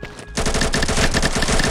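Rapid automatic AK rifle fire in the mobile battle royale shooter Combat Master, a loud, steady stream of close gunshots that starts abruptly after a brief quiet moment and continues without pause.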